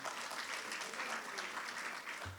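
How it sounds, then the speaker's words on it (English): A crowd at a school spring sports varsity awards ceremony claps steadily in a dense wash of applause that continues throughout, fairly close and even in loudness. "So let's give them a round of applause as well."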